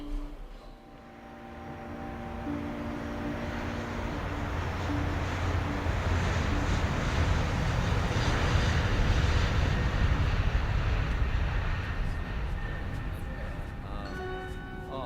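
Airplane engine sound effect for a radio drama, a broad roaring drone that swells up after a quiet start and holds loud and steady, with a faint voice early on.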